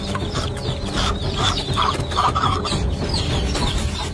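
Hens cluck and squawk in agitated bursts over a steady, noisy background, with sharp cries rising now and then.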